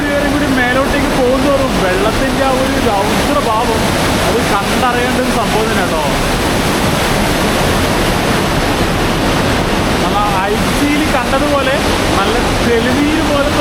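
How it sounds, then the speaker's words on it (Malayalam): Steady rushing water fills the scene, a broad continuous roar of a small river over rocks in the Partnachklamm gorge, Bavaria, with a person talking over it throughout. "രണ്ട് പാറ കഷ്ണങ്ങൾക്കിടയിലൂടെ ഒഴുകുന്ന ഒരു ചെറിയൊരു നദിയാണ്"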